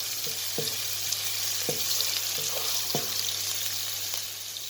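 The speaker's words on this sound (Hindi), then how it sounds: "इसमें लहसुन डाल कर इसको अच्छी तरह से फ्राई कर लेंगे" Steady sizzling of garlic frying in hot ghee, with a few soft clicks and pops from the pan.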